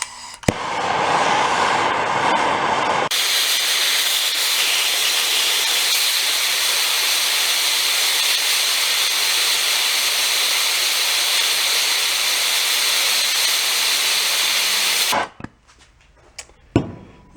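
Loud, steady torch roar as heat is applied to stuck, broken studs on a golf cart engine, holding constant for about twelve seconds before cutting off abruptly, followed by a few faint clicks.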